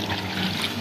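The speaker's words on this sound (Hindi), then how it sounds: "हम 1 कप के बराबर पानी डाल लेंगे कढ़ाई में" A cup of water poured into a kadhai (wok) for falsa chutney makes a brief, steady splashing gush at close range, lasting under a second.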